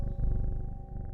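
Cat purring while being petted in the puzzle game Strange Horticulture, a low, continuous rumbling purr with a soft pulsing rhythm, close and steady, with no talk over it.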